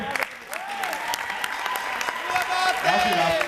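Applause from an audience at an Italian stage show, steady clapping running throughout under a speaking voice, with the claps growing slightly louder toward the end.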